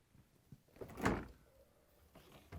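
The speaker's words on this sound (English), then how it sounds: "To get to the part, we need to open both French doors." French doors of a Frigidaire/Electrolux refrigerator swinging open, a single soft close-range door sound with a faint seal release, alone in a quiet room.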